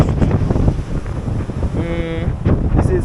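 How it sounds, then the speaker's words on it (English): Strong wind buffets the microphone along the Palisadoes Strip beside the ocean near Kingston, a steady rushing roar for the whole stretch, with voices briefly audible beneath it. "But it is so windy out here."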